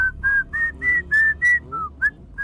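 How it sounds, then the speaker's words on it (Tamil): A man whistles a tune as a row of clear, steady notes, each held briefly with small gaps between. The whistling is close and loud, with only faint background sound beneath it. "இன்னைக்கு நீங்களே விசில் அடிக்கிறீங்க?"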